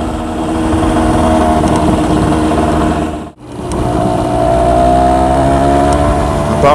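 A Honda CRM 125 cc two-stroke trail motorcycle drones loudly and continuously while being ridden, holding high revs with a brief dip in the middle, the engine close and dominant throughout.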